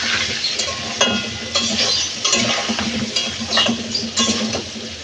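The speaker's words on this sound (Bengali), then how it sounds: "সামান্য নুন আর হলুদ দিয়ে আমি আলুগুলো ভালো করে ভাজি করে নেব।" Potatoes fry in oil left from fried onions, seasoned with salt and turmeric, for a mutton biryani. A steady sizzle runs throughout with repeated scraping and stirring clatters of a utensil against the pan, close and without talk.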